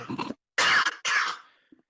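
A few close, harsh coughs come in quick succession, with short pauses between bursts and a faint trailing sound after.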